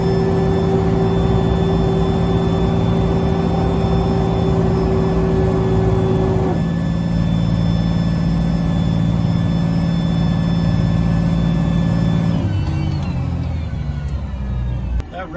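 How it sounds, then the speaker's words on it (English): Terminator fire pumper truck running in first gear at about 20 km/h at governed engine RPM: a loud, steady heavy diesel drone with strong harmonics, a pitch drop partway through, then the engine winding down near the end. "we're going to run at approximately 20 kilometers an hour, and again, right to engine governed RPM"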